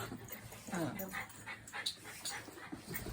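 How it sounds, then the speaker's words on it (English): A pet dog whimpers and pants softly indoors, with brief high whines and breathy puffs at close range, mixed with quiet background talk. "this is my dog Tipsy"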